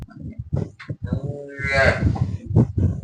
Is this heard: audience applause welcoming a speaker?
no